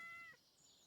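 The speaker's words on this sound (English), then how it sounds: "Oh, my cat." A cat gives a short, faint meow of about a third of a second, heard close by in a quiet room with some background hiss.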